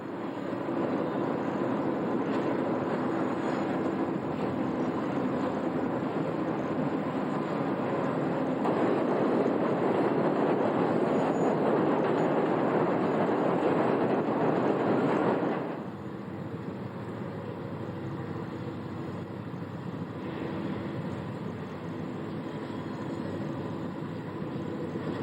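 A Norfolk Southern train rolls by on the Lake Erie line, sustained loud rumble and wheel roar swelling for about fifteen seconds, then easing to a steadier, quieter passing drone.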